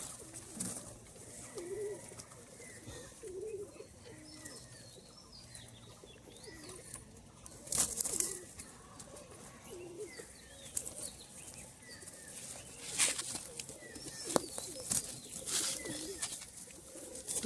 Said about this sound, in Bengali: কালো তোমার টিক্কি পায়রা।